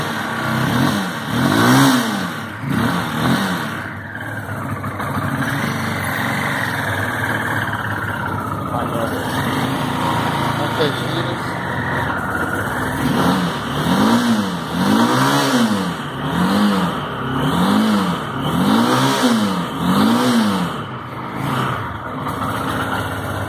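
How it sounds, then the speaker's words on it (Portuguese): A Bull 180cc motorcycle engine running, low on fuel, idles with a smooth steady putter and then revs up and down in a series of rising and falling surges, heard up close without speech. "É um motor aí muito suave."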